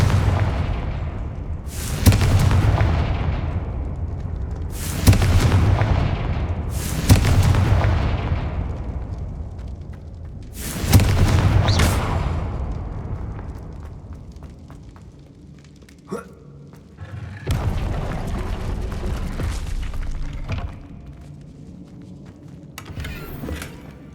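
Confringo fire spell blasts in the Hogwarts Legacy video game, several loud booming explosions in a row, each fading into a rumbling tail, over a low game background.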